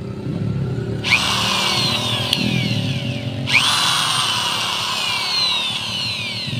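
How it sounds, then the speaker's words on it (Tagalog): A power drill bores a hole for a bolt while a homemade gold locator is built from a computer mouse, revving up twice with a whining motor that holds steady after each start. "Magbutas na pala tayo muna bago para sa lagayan na po natin ng bolt"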